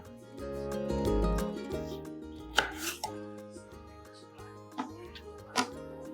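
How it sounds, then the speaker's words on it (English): A knife cutting lemons open on a board: several sharp chopping knocks at uneven intervals over a low hum and a brief rumble, nearby and fairly quiet. "We're gonna get them sliced open so we can squeeze them out here."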